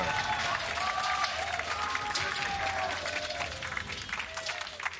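A packed crowd at a 2019 League of Legends World Championship play-in match cheering and applauding steadily, a dense roar with whistles and shouts while a commentator talks over it.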